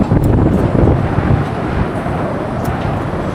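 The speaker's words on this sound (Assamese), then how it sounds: "বতাহ কি চালিয়া দি আছে" Strong wind blowing across a bridge in Arunachal, with a steady, loud broadband rush and buffeting on the microphone throughout and no clear speech.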